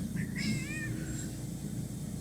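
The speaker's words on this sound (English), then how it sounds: "Oh my goodness, listen to that kitty cat." A kitty cat meows a few times in quick succession over a steady low hum, fairly close and clear, then the room goes quiet apart from the background drone.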